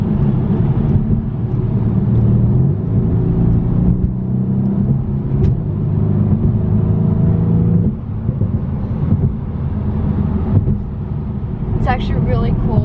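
Engine of a 2017 Mercedes-AMG C63 S coupe in Sport Plus mode, a steady low drone that builds as the throttle opens, continuous throughout at close range from inside the cabin, with a faint chirp near the end.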